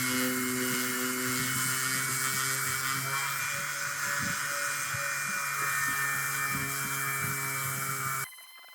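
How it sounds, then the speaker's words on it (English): A power sander works steadily over a wooden Ethan Allen Classic Manor table stained with dye. It gives a loud, close, continuous whine that cuts off abruptly near the end. "After it was fully dry, it was time to sand"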